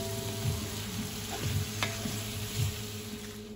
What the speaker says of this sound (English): So we're gonna give everything a very nice mix here.